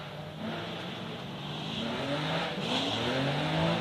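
Drift car engine revving hard during a drift competition, a loud sustained engine note rising and falling in pitch, heard close and continuous.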